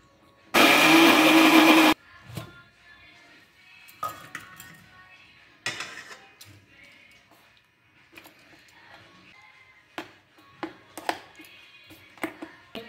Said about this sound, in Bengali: খেজুর গুড় দিয়ে আমি এটা পিষে নিচ্ছি